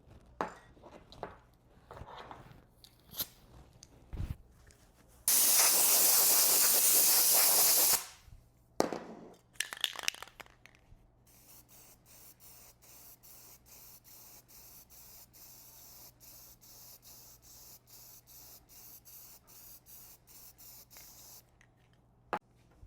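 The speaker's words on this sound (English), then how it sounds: "I'll spray some lacquer to it and we'll see it change colors again." Lacquer is sprayed onto paduak wood in a woodworking shop in one loud, steady hiss lasting about three seconds, set among scattered clicks and knocks and followed by a long stretch of faint ticking.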